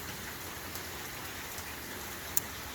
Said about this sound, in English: If keep raining like this all night long, I'll be happy.